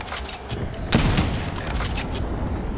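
Gunfire in a shooter video game during a Pro League practice match, a steady rattle of shots with one louder burst near the start, all fairly distant and muffled under game ambience.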